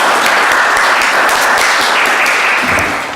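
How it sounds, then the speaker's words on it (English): An audience at a town forum breaks into sustained applause, a dense, even clatter of many hands clapping throughout, trailing off slightly at the end, with no voices heard. "I would like to include in a round of applause our videography team, Mr. and Mrs. Wurtenberg, who are here today"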